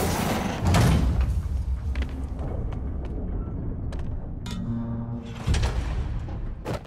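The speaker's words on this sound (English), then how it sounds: "You were right, Jeff. Trap door." A heavy trap door grinds and thuds open in Marvel's Spider-Man on PS4 Pro, a loud low scrape and slam near the start followed by rumbling movement and a second heavy knock toward the end, with no talk.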